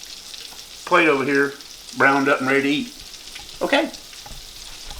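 Breaded pieces frying in a pan, a steady sizzle running under a voice, which speaks in three short bursts over the crackling oil.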